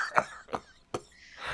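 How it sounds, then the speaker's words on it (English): Three hard, harsh coughs burst out close by at an uneven pace, each a sharp loud attack that fades quickly, with a quiet breathy pause between them and no talking. "Have you ever coughed so hard that you got dizzy?"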